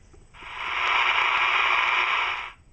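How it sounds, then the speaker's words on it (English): A restored Cobra 148GTL CB radio in receive mode puts out a steady hiss of static that fades in, holds at an even level for about two seconds, then cuts off. "as you can hear, it's picking up static, which means it's in receive mode"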